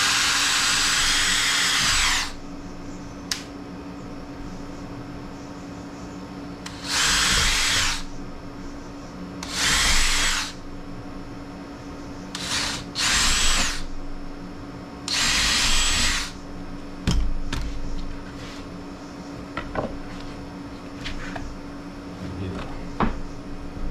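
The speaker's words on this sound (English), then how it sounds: "Alright, we'll drill some pilot holes here." Power drill boring pilot holes in scrap lumber in a workshop, several loud bursts of whirring drilling separated by pauses and small clunks of handling tools.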